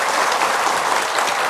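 A studio audience at a televised Islamic sermon broadcast claps for the MNC TV crew, a dense, loud, even wash of many hands sustained throughout with no voices over it.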